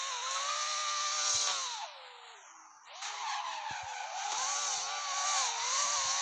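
Fast old-model car driven in a video game, heard as a high, continuous engine whine with shifting pitch and tyre squeals. It dips briefly midway, then resumes close and loud with no talk.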